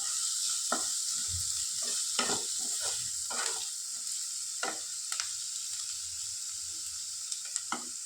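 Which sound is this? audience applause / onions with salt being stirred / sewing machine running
onions with salt being stirred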